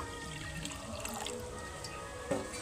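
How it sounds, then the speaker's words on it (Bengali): Water pours onto soybeans in a cooking pot to boil them, a soft steady splashing trickle that stays close and even throughout, with no talking. "কিছুটা জল দিয়ে দেব সয়াবিনগুলো সেদ্ধ হওয়ার জন্য।"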